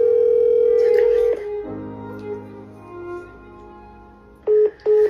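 A telephone placing a call: a steady dial tone, then a stretch of faint tones, followed by two short ringback beeps near the end.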